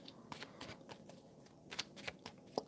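Tarot cards being shuffled by hand, a quick series of crisp riffling bursts and soft slaps close to the listener, fairly quiet and without any talking.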